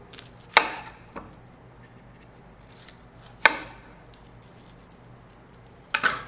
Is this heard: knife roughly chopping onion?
yes